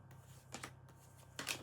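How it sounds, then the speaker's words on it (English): A tarot deck being shuffled by hand, quiet riffling bursts of card edges with brief pauses between them, close and soft, no talking. "Just a couple more shuffles here"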